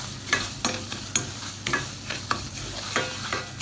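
Gram flour roasts in a pan for sooji halwa, a soft dry sizzle under a spatula scraping and stirring in regular strokes, close up and fairly quiet.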